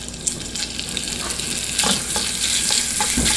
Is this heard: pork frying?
yes